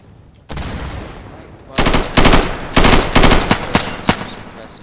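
Machine gun suppressing fire in a video game: a loud steady rattle that breaks into several rapid bursts of gunfire, close and dominant, with a few sharp single shots near the end.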